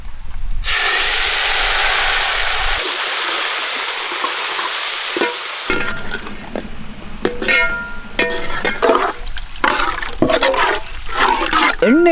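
Meat frying in hot oil in a village cooking pot, a loud steady sizzle and hiss at first, then intermittent stirring and clattering with bursts of sizzling.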